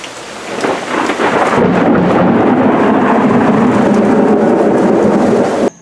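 Heavy rain pours steadily during a thunderstorm, with a deep rolling rumble of thunder underneath, loud and close throughout before cutting off abruptly at the end.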